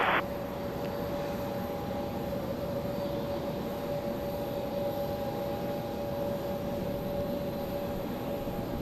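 A Delta airliner on a diverted arrival at Charlotte Douglas airport, heard as a steady, distant engine roar with a constant tonal whine under windy outdoor air, unbroken and without voices.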